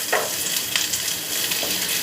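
Sliced onions frying in a pan until reddish-brown, a steady close sizzle with a few brief stirring scrapes, no talk.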